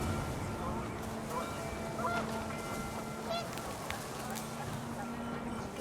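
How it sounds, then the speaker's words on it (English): Panicked geese honk in the video game What Remains of Edith Finch, scattered calls over a steady wind-like wash, with faint murmuring beneath. "panicked geese appeared and quickly went"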